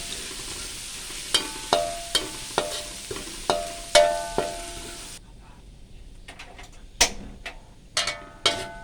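Garlic sizzles and crackles in hot vegetable oil in a wok, with repeated sharp metallic scrapes of a spatula against the wok at an irregular rhythm.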